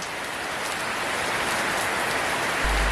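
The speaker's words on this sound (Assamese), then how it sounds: "বাহিৰত তামাম বৰষুণ দি আছে।" Heavy rain pouring outside, a steady dense hiss of falling water that stays loud and unbroken throughout, with a low thump near the end and no voices.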